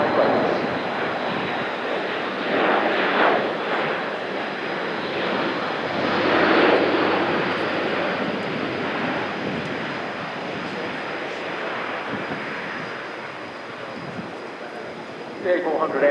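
An Airbus A400M Atlas military transport aircraft flying a display at RIAT 2025, its four turboprop engines producing a loud, sustained roar that swells and fades slightly as it passes, with a commentator talking over it.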